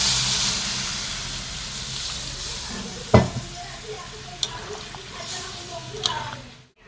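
Water is poured into a pan of sizzling goat mutton curry, setting off a loud hissing sizzle that slowly settles, with a few metallic clinks from stirring.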